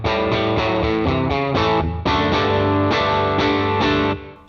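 Electric guitar through the Class 15 crunch amp model of a NUX MG 50 Li modeling amp, strummed chords with crisp breakup, several rhythmic strums ringing out loud and close, alone with no talk, fading at the end.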